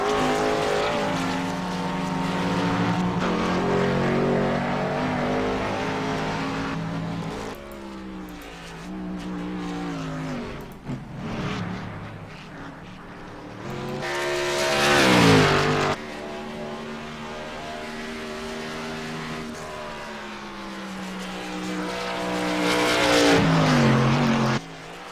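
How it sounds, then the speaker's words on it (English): A small race car engine screams at high speed around a track, loud and close, pitch sweeping up and down through gear changes and corners, with brief lulls as it passes and then surging again toward the end. "Boy, that's pretty fast for that little car."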